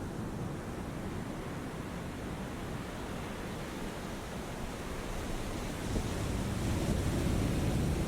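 Ocean waves wash steadily in the naval combat game War On The Sea, a broad continuous surf roar with wind-like hiss that swells slightly louder toward the end, with no voices.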